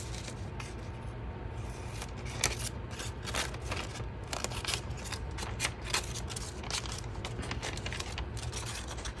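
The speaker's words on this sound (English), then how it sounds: "Let's just like cut half of it." A paper doily is snipped in half with scissors, giving dense, continuous crinkly cutting and rustling sounds, close-up and steady, without speech.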